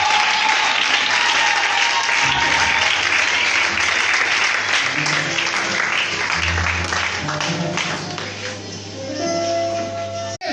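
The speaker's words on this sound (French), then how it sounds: "Acclamons très fort pour l'homme de Dieu qui arrive" A church congregation breaks into loud, sustained applause for the arriving pastor, dense clapping that fills the room for about ten seconds before briefly thinning near the end.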